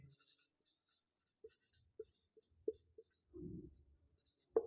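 Marker or chalk tapping and scratching on a board during a Class 10 maths lesson on polynomials, several brief quiet strokes spaced unevenly, with a short rustle in between and faint background noise.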